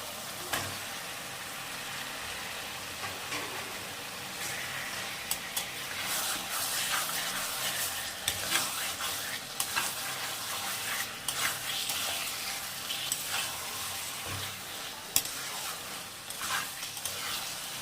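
Mutton and spice masala frying in oil in a pan: a steady, close sizzle and hiss with scattered crackles and occasional stirring scrapes, no voices.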